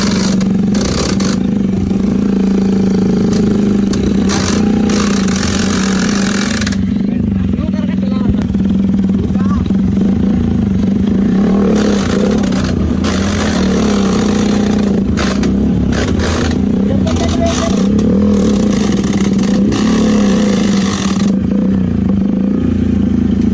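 Bajaj Platina and Hero HF Deluxe motorcycles rev hard during a tug-of-war test, with a loud, continuous engine drone, clattering and scraping, and people talking and shouting over it.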